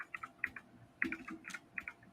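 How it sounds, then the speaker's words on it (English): Keyboard typing clacks in short irregular bursts of crisp keystrokes, close and fairly quiet, with small pauses between clusters. "here's some clacking for a few seconds"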